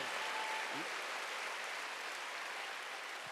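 Church congregation at a Wednesday worship service applauding steadily, a full, dense wash of clapping from many hands lasting throughout without a break.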